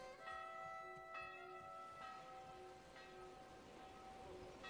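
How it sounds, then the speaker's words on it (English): A church bell rings in the Manor Lords medieval village-building game, with several evenly spaced tolls that overlap and decay over a soft, steady ambient background. "I think this church bell sounds every month"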